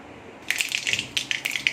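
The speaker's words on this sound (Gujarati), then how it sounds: "રાઈ આપણી ફૂટી ગઈ છે" Mustard seeds crackle and pop in hot oil, a quick irregular spatter of small sharp pops, fairly faint and close.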